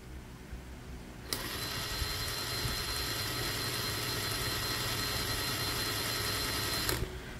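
Cordless brushless impact wrench running free at its lowest speed setting, a steady high whirring whine with a sharp start and a sharp stop, held evenly for about five and a half seconds, close and alone.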